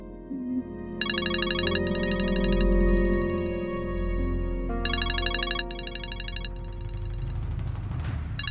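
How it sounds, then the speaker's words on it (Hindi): A phone ringtone plays in repeated melodic bursts over a low, sustained musical background, fairly loud and close, with no talking. "यासिर फोन मत उठाएगा प्लीज"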